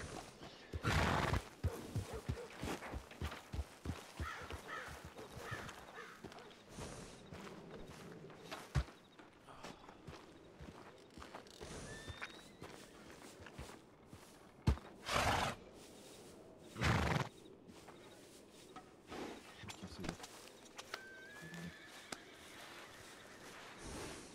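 A horse moves about, hooves clopping with scattered thuds, and it snorts and whinnies a few times, close by and intermittent.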